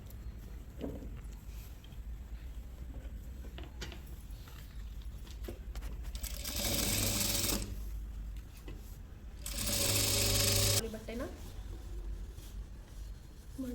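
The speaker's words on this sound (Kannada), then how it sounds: "ಒಂದು ಅರ್ಧ ಇಂಚ್ ಬಿಟ್ಕೊಂಡು ಫುಲ್ ಹೊಲಿಗೆ ಹಾಕೋತಾ ಹೋಗಬೇಕು" A sewing machine stitches pant seams, with a steady mechanical whir and rattle underneath that swells into two loud, fast bursts of running stitches.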